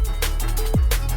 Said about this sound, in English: and that is how you make the Rev Pitch